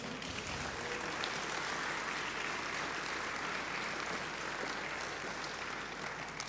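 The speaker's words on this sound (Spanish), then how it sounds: "Dele palmas al Señor." A church congregation claps loudly and steadily for several seconds, a dense, continuous wash of applause with no voices rising above it.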